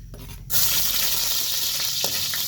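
Cooking oil hits a hot blackened wok and bursts into a loud, bright sizzle that holds steady and close, with a couple of faint clinks partway through.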